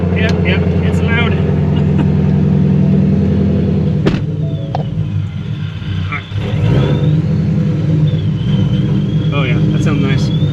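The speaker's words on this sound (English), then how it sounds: "You hear that blower?" Procharged Ford Mustang with a supercharger, its engine rumbling loud and close throughout with a steady blower whine riding on top, while people talk over it.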